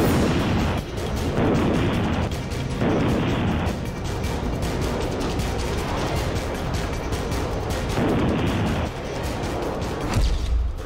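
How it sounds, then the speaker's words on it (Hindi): Rocket launcher and artillery fire during Russian army training, heard as a sustained barrage of loud booms and rumbling blasts that overlap without pause, dense and continuous throughout. "रॉकेट लॉन्चर और तोप से हमले की ट्रेनिंग"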